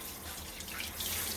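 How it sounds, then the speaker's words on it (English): Water runs from a kitchen tap in a steady, close hiss that swells slightly toward the end, with no talking. "turn on the water"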